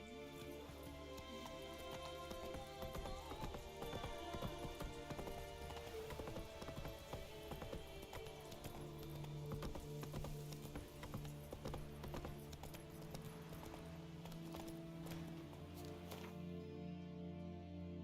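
Hooves clatter in a fast, steady rhythm as Roach gallops in The Witcher game, with a brief whinny, set against a droning musical backdrop.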